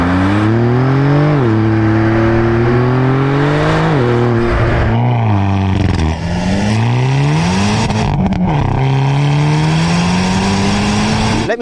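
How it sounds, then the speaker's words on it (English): A Hyundai i30N and a Porsche 911 Turbo S driving hard, engines loud and close as they climb through the revs, drop on each shift and climb again, with gear changes every couple of seconds. "So I'm going to give you a montage of both cars driving, and you can then compare their sounds that way as well."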